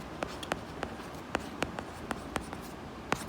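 Close, faint scratches of a pen writing a word on a maths solution sheet: a series of short, sharp strokes in an irregular rhythm over quiet room tone, with no talking.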